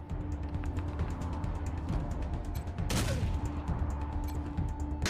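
Gunfire in the turn-based video game Wasteland 3, a burst of rapid shots with one loud sharp blast midway, set against steady game background noise and no talking.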